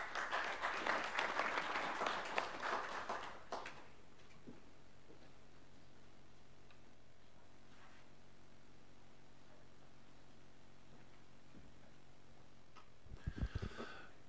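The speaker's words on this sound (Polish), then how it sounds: "Jeszcze raz wielkie brawa dla państwa." Applause at a regional assembly session (Podlasie Sejmik) fills the first few seconds, then gives way to quiet room tone with faint shuffles and a brief burst of noise near the end.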